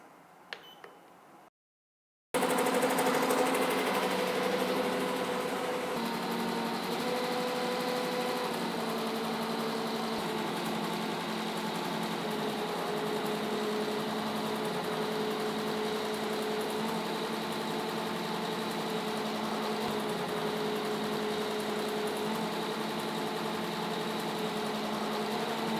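A BAi The Vision embroidery machine stitches a hoodie with a steady, continuous mechanical whir and hum, loud and close. A brief quiet gap comes first, then the machine runs evenly without pause.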